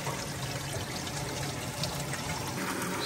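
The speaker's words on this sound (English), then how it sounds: "Sink is draining out nicely." Water draining steadily from a kitchen sink fitted with a crumb cup basket strainer, a continuous close trickling and gurgling wash with no voices.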